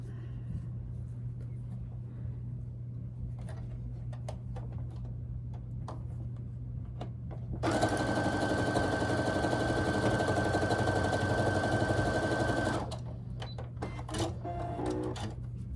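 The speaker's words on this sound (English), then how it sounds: "I'm just going to sew that right along the top" A sewing machine stitches a 4.5 by 2 inch fabric rectangle onto a scrappy quilt block, a loud even whirring run of about five seconds, preceded and followed by faint clicks and fabric handling.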